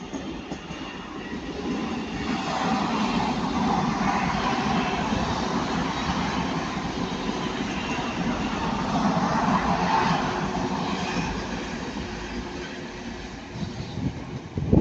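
A Class 185 passenger train rumbles past nearby at Ardwick in a long, steady roar that swells and fades slightly over about fifteen seconds.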